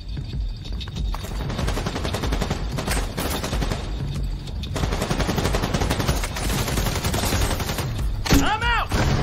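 Sustained gunfire in The Division 2 beta on Xbox One: rapid bursts of automatic weapons and scattered shots crackle continuously, loud and close, with a brief whooshing effect near the end.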